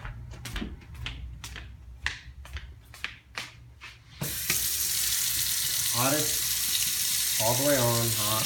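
A hot water tap is turned on and runs in a steady, loud broadband rush that starts abruptly partway through, after scattered clicks and taps, with brief tonal squeaks or voices over the flow.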